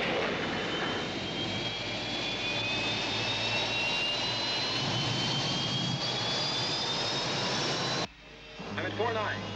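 Space: 1999 rescue ship engine effect, a steady roaring jet-like drone with rising whine tones that holds loud and continuous for about eight seconds before cutting off abruptly.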